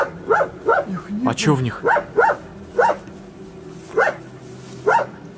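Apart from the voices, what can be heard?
dog barking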